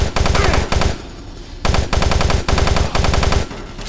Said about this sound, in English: Let's use the machine gun here.